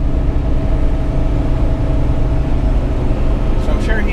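Loud, steady engine drone from an LT4-powered Jeep Wrangler cruising on a highway just after a downshift into ninth gear, with continuous low rumble and road noise throughout and no pauses.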